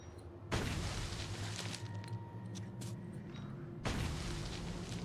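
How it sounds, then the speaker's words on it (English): A grenade goes off in a video game, a loud broadband blast at about half a second that rumbles on for several seconds, followed by a second heavy burst near the four-second mark, with no voices. "It's grenade time."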